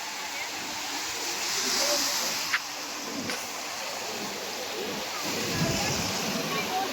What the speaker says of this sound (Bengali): আর শুধু ঢেউটা দেখো, পুরো দীঘার মতো।